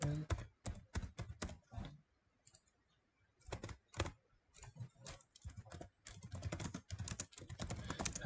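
Rapid keystrokes on a computer keyboard as a password is entered during an online card game match, coming in quick irregular bursts with short pauses, close and fairly quiet.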